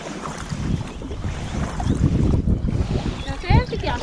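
Wind gusts across an inflatable Gumotex Swing 2 kayak on the Adda river, buffeting the microphone loudly with water splashing, while people talk throughout.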